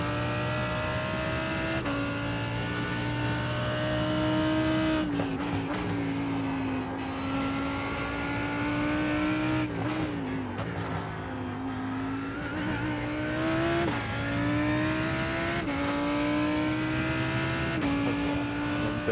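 Race car engine in an IMSA sim racing game at Road Atlanta, droning steadily and loudly throughout with pitch rising and falling as the throttle is fed in and lifted through corners, with no voices over it.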